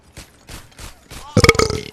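A man lets out a series of short, close burps, three small ones in rhythm followed by a longer, louder croaking belch, during gaming commentary.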